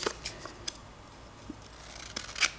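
Scissors trimming folded paper for a journal tab, a few sparse, crisp snips and clicks spread out over quiet background, close by and without speech.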